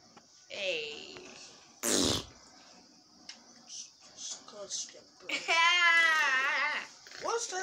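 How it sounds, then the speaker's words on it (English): A loud, short fart bursts out once amid children's chatter and whiny vocal sounds, close by, with voices talking before and after it. "why'd you fart?"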